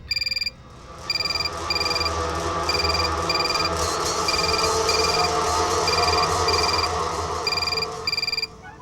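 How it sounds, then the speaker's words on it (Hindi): A telephone rings in repeated bursts of bright electronic trills, loud and close, with a low steady hum underneath. "जो भी फोन उठाएगा स्पीकर पे रखेगा"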